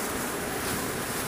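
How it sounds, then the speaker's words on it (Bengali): A Gree air cooler blows a strong, steady rush of air close to the microphone, a constant broadband whoosh with no breaks or voices. "যে বাতাসটা কেমন টানে সেটা একটু দেখা দিই"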